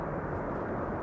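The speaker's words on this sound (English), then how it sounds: "That's some reversers being spooled up there." An airliner's thrust reversers spool up during landing at Amsterdam Schiphol Airport, a steady, low, broad roar held at an even level for a moment with no talking.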